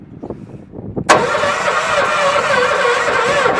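Small engine with choke and fuel on catches abruptly after quiet shuffling, then settles into a steady, loud, close running drone.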